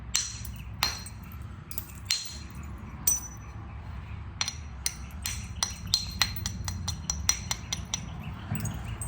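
Flint knapping on a Georgia jasper blade: a series of sharp, bright clinks and taps as the edge is beveled, irregular strikes speeding up toward the end, close and crisp over a low background rumble.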